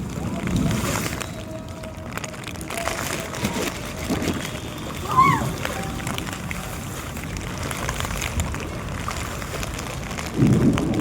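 Steady rain patter fills the scene, with voices and splashing activity mixed in and a brief louder burst near the end.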